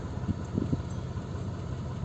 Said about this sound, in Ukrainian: Автомобіль заведений, працює рівно, тихо.